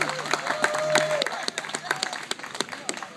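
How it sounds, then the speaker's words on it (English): At a hypnosis show, a crowd claps and cheers, with whoops and a voice rising over sharp, close handclaps that thin into scattered claps near the end. "The louder the cheers, the more applause"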